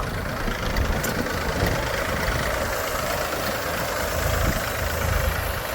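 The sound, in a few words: Bhumiputra tractor engine running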